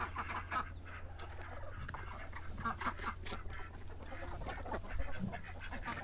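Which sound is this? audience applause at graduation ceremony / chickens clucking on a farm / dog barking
chickens clucking on a farm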